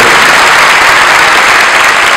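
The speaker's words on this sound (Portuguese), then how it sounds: "Uma salva de palmas" A crowd at a jazz lecture show bursts into loud, dense applause, a thick unbroken roar of many hands clapping close and at full strength throughout.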